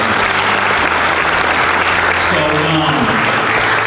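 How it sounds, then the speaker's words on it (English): An audience at a scholarship awards dinner gives a loud, sustained round of applause, with dense clapping throughout and some voices mixed in. "Another round of applause, please."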